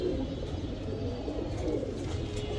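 Pigeons coo softly and repeatedly against a low background hum, some distance off, with no talking.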